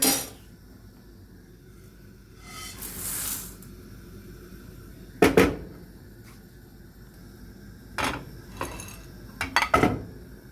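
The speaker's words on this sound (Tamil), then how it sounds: "பயரையும் வறுக்க போகிறேன்" Legumes dry roasting in a pan for a health mix powder, with scattered scraping and clinking of a spoon against the metal pan, a few sharp louder knocks spaced apart over a quiet background, no talking.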